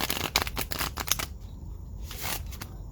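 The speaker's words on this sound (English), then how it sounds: "That was a beautiful shuffle." A deck of cards being riffled and shuffled, a quick crisp flutter of ticking cards repeated in bursts, close and clear with no talking.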